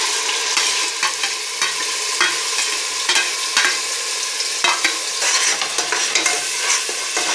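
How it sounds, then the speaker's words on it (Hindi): Ginger, garlic and chilli paste sizzles steadily in hot oil after cumin, with a continuous bright crackling fry and intermittent scraping clicks of a spoon stirring the pan, close and loud, with no talking. "इसको थोड़ी देर अच्छे से भूंजना है, हमें फ्राई करना है जब तक ये तेल ना छोड़ने लगे।"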